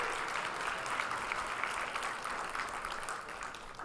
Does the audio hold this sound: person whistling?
no